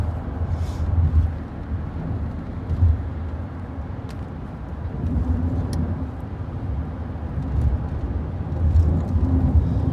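Steady road and engine noise from inside a car cruising along a highway, a continuous low rumble with gentle swells and faint rattles, no voices.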